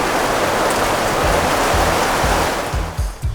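Dense, loud hiss of water spraying from a shower hose onto a campervan conversion during a leak test, continuous and close, ending with a few low knocking thumps.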